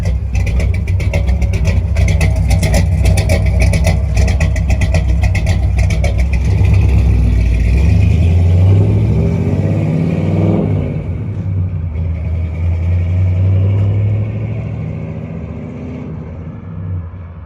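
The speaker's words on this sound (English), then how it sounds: "Dude's still doing a burnout way down there." A car doing a burnout some distance away, a loud continuous engine roar with rising and falling revs that gradually eases, heard from outdoors without talk.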